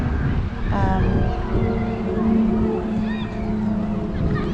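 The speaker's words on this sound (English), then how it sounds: "You hear how windy it is." Steady wind rushes and buffets throughout, with faint distant bird calls and a low engine-like hum underneath.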